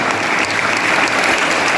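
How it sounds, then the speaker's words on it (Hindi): Dense, steady applause from a large school audience at a prize distribution ceremony for competition winners, many hands clapping at once with no pauses through the short burst. "उन सभी को एक बार जोरदार तालियां बजाएं।"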